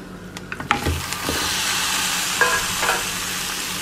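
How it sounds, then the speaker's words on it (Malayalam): Chicken tossed with homemade masala in a pan for Kerala-style curry, a few quick scrapes and clatters of the spoon at first, then a steady close sizzle and hiss carrying on alone. "എന്നിട്ട് നന്നായി ഇളക്കി എല്ലാ ഭാഗത്തോട്ടും അരപ്പ് പിടിക്കത്തക്ക രീതിയിൽ നന്നായി ഇളക്കി കൊടുക്കാം."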